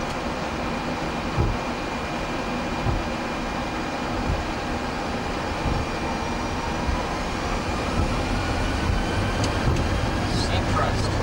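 WestJet Boeing 737-600 engines at takeoff thrust, a steady loud broadband roar with a faint high whine heard from inside, continuous across the whole stretch.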